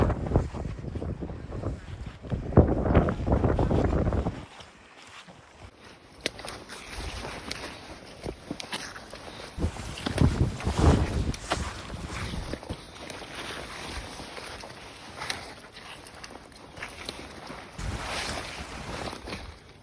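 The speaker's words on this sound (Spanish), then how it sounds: "Acá el viento no sopla fuerte, ruge y el tiempo es inclemente." Strong wind roaring across the exposed coast of Isla de los Estados, Argentina, buffeting the microphone in loud gusty surges that ease off briefly and then build again, with no voices heard.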